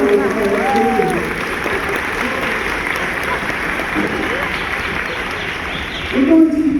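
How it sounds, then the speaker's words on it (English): An audience at a high school achievement awards night applauds the valedictorians, steady broad clapping filling a large hall for several seconds, with a speaking voice heard over it near the start and again at the end. "Let's give them a round of applause."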